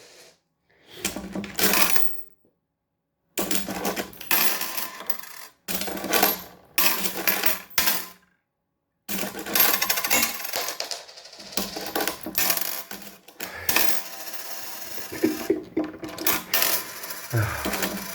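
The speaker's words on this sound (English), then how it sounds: "After I've cleaned up all the coins that are being thrown around my living room." A parrot flings coins around a living room, producing bursts of clinking, rattling metal that come in clustered runs separated by short silences, fairly close and loud with no talk.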